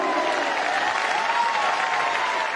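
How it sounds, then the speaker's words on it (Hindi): An event audience in Jaipur breaks into loud, sustained applause for a third anniversary celebration, many hands clapping together in a thick, continuous roar with a faint background tone. "एक बार हमारी तीसरी वर्षगांठ के लिए दोनों हाथ ऊपर करके जोरदार तालियां हो जाए"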